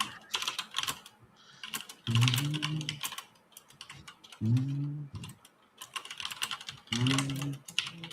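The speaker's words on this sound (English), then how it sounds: "That's back with his very aggressive keyboard." Aggressive typing on a computer keyboard: rapid, loud clacking keystrokes in repeated bursts, close up, with short pauses and some low tonal sounds in between.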